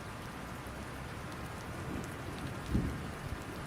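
Steady rain falls outdoors as a dense, even hiss of drops on surfaces, with a soft low thump or two near the end; no one speaks.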